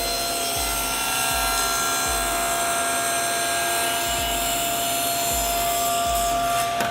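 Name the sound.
saw cutting a door to width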